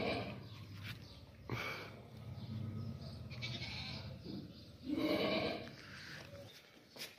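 A large, high-quality Beetal goat bleats several times, close by and fairly loud, with a strong cry near the end amid farmyard background noise.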